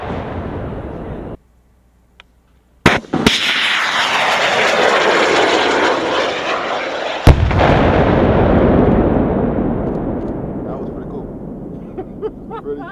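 An FGM-148 Javelin anti-tank missile is launched outdoors with a sharp blast, followed by a loud, sustained roaring rush of the missile motor that slowly fades, then a second sharp crack partway through. A voice speaks briefly beforehand.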